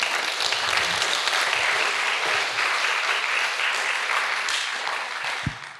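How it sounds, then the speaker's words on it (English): An audience at a cultural workshop gives a sustained round of applause for the presenters, steady dense clapping that fades slightly toward the end. "please give our presenters a round of applause"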